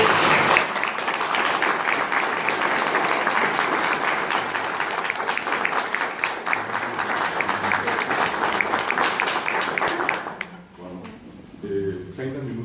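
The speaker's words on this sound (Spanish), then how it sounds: "vamos a dar un fuerte aplauso" A large audience gives a loud, sustained round of applause at an Ateneo event, dense clapping that holds steady for about ten seconds before fading out, with voices beginning to talk as it dies away.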